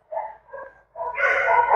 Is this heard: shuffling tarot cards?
no